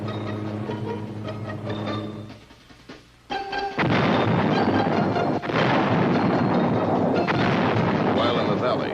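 Artillery fire in Vietnam War footage, loud booming blasts and a dense roar of explosions that fill the later part, preceded by a quieter stretch with a low rumble.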